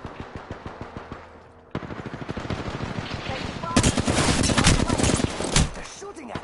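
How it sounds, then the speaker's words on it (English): Rapid automatic gunfire from the video game Apex Legends, with a steady burst of shots followed by a denser, louder barrage of overlapping fire from close range. "They're shooting at me."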